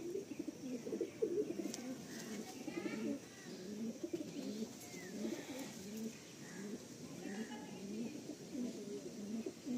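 Pigeons in a loft coo in dense, overlapping low rolling calls, close and continuous, with faint rustling and a few higher chirps.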